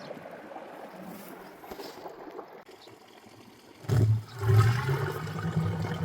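Over a hundred litres of leftover buttermilk draining into a bag, first as a faint trickle and then as a loud, close gushing rush of liquid in the last two seconds.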